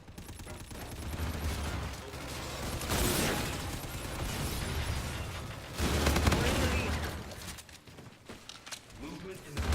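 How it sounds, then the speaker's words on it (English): Rapid bursts of gunfire and booming explosions from Infinite Warfare team deathmatch multiplayer, including EMP grenades going off in a hallway, loud and dense, with heavy swells around the third and sixth seconds. "Once again, I got hit with more EMP grenades."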